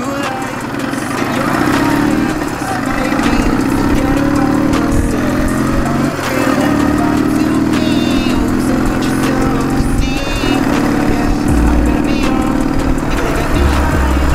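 A Ural motorcycle engine running while riding on a road: a loud, steady mid-pitched drone with slight rises and dips in revs, close to the microphone, with no talking.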